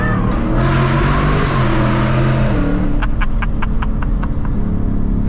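A 2024 Ford Mustang GT with long tube headers drones loud and steady through a downshift, its exhaust rumble swelling, then a quick series of sharp pops and crackles near the end.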